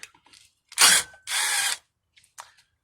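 Rear brake rotor screw on a 2015 Acura MDX being backed out with a power driver: two close, loud bursts of buzzing tool noise with a ratcheting edge, then brief faint clicks, no talking.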